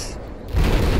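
Tank cannon shot from an Abrams in Battlefield 4 on Caspian Border, a single loud blast that bursts in halfway through and rumbles on to the end.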